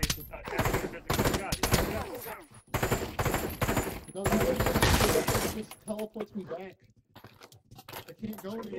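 Rapid automatic gunfire and shots from the VR shooter game Pavlov VR, dense and loud at first, then thinning into scattered bursts, with a player's voice talking over the action.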